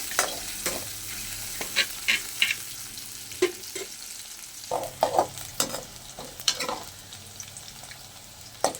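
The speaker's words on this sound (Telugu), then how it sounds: "ఆనియన్ అంతా కొంచెం బాగా దూరగా వేయించుకున్నాక టమాటా వేస్తాము" Sliced onions frying in a pan before tomato goes in, for a dried prawn curry: a low steady sizzle with irregular sharp spatula scrapes and taps, close by and without any talking.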